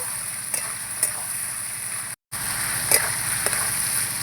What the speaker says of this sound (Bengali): এবার নাড়তে নাড়তে মশলাটা ভালো করে কষিয়ে নেব